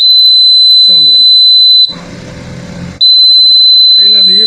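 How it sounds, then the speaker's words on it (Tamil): A DIY single-transistor water level alarm sounds a loud, piercing steady tone that cuts out for about a second before resuming. A voice talks briefly alongside it. "இது சிம்பிள் வாட்டர் லெவல் அலாரம்."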